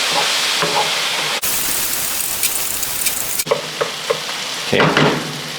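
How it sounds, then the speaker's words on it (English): Apple crumble sauce stirred in a hot pan, a steady close sizzle with scraping spoon strokes and brief gaps where the stirring pauses. "Mix that around."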